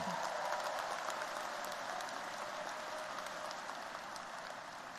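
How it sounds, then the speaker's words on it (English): Large audience applauding steadily at a university engineering commencement ceremony, a dense, even wash of clapping that holds for the whole stretch without speech. "let's give them a great round of applause"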